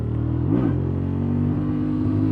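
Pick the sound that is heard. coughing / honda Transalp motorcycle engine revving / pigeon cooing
honda Transalp motorcycle engine revving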